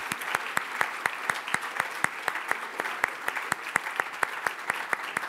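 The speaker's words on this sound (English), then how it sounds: "we could have a round of applause for them for their awesome work" Conference attendees at the RightsCon Brussels 2017 closing ceremony applaud a team, a sustained crowd of clapping with several distinct, regularly repeating sharp claps cutting through the steady background patter.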